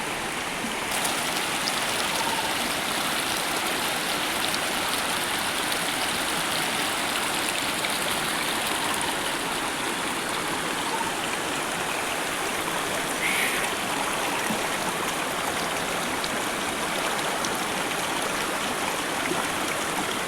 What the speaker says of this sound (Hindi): और साउंड आपको सुनाई दे रहा होगा हमारे वाटरफॉल झरने का।